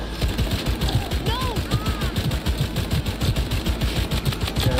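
Rapid automatic gunfire from a gun in the video game Cyberpunk rattles in a fast, even burst of shots, with chirping game effects and a voice partly over it.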